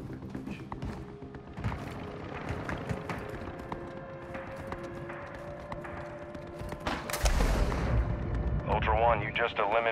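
Gunfire in a gunfight in the Call of Duty MWII video game sounds as sharp shots and thumps over game ambience, building to a louder burst near the end, with voices heard.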